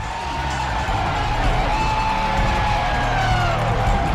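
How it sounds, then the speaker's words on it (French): A sports crowd cheers at a Rochester versus New York University game, a steady, loud roar of many voices that holds evenly throughout with no break. "Le public se lève, encourage les joueurs, ils émettent de l'énergie."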